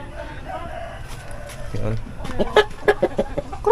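Backyard chickens waiting to be fed cluck and cackle close by, their calls growing busier and louder toward the end, with a voice talking briefly among them.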